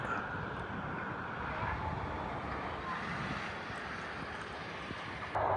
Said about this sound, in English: But that noise you can hear is a tractor down there.